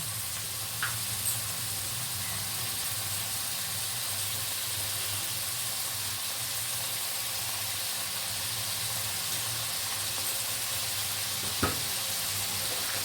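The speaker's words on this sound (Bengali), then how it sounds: "বিনস, ক্যাপসিকাম, গাজর দিয়ে আমি এটাকে নাড়াচাড়া করবো।" Beans, capsicum and carrot fry in a pan for fried rice, a constant close sizzle and hiss with a couple of faint clinks as they are stirred.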